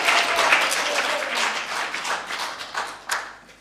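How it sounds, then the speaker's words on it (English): Crowd applause breaks out at a planning application public inquiry, a burst of many hands clapping that starts strong and gradually thins out, with a few scattered claps near the end. "I have said already that applause isn't appropriate."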